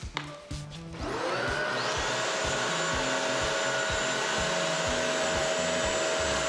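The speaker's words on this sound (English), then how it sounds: "A vacuum can't clean an area rug like the CrossWave can." A Bissell CrossWave wet-dry vacuum starts up and runs steadily on a kitchen floor, a loud continuous motor roar with a high whine and a faint rhythmic low thumping from the brush roll.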